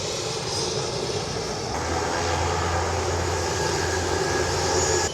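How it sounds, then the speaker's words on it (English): A steady, loud drone of a crop dusting airplane's engine running nearby, with a low rumbling hum rising slightly partway through and no voices. "This plane just landed."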